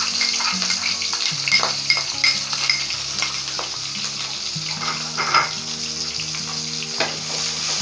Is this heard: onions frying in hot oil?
yes